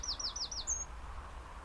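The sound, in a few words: birds calling at a lake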